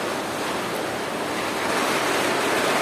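Strong storm wind rushes in Moulvibazar, Sylhet, a dense continuous roar and hiss with wind buffeting the microphone, steady and slightly swelling toward the end, no voices.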